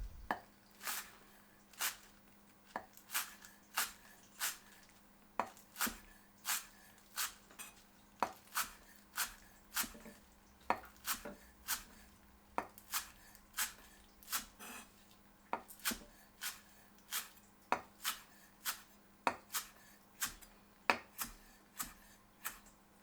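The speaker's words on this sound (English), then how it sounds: "I'm chopping the chives." A knife chops chives steadily on a cutting board, sharp regular taps repeating about once a second, close and clear over a quiet room.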